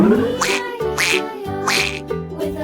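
Several loud, nasal duck quacks come close by in a loose rhythm, with lower background sounds between them.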